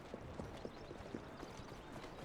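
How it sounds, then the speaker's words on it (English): Faint, even clip-clop of a horse and buggy's hooves trotting at a steady rhythm in a video game, over a low background hum. "Horse and buggy, sir."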